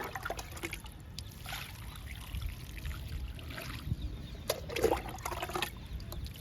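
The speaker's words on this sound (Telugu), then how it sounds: "ఇప్పుడు ఈ కంపోస్ట్కి వాటర్ ఇద్దాము." Water trickles and pours onto a heap of homemade compost in a steady, soft dribble with a few brief louder splashes, heard close and alone without talk.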